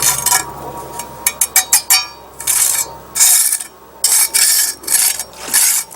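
Trowel smoothing caulk over a crack in a concrete driveway, rough scraping strokes in short repeated bursts with pauses between, close and loud, no talking.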